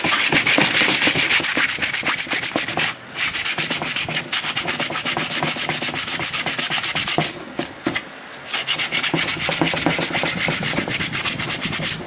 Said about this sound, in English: I'm just using a 320 grit because I don't want to tear into it too much